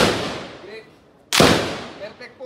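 A single sharp gunshot-like bang cracks out loud and close, then decays into a brief ringing tail with faint background noise.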